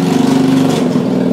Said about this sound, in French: Et Dominique aime faire moto, faire bruit, vous voyez.